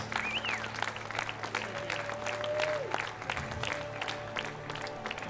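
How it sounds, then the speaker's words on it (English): Steady applause fills a swim meet finals session at a junior nationals championship, broad and continuous for the whole stretch, with a faint whistle-like tone and a short squeal in the venue behind it. "A round of applause for both of these two athletes."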